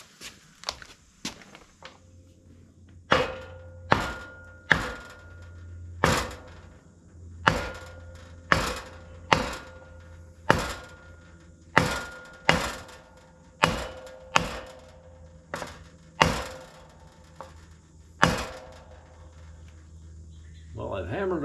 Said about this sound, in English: I've hammered on it more than I'd like to, but I think I've got it just about up